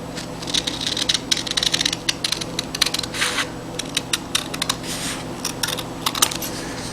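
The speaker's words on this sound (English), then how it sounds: "now I'll cut along the top of my guideline" A blade cuts along a guideline across a homemade weathered shingle, producing a rapid series of close, crisp scraping and ticking cuts.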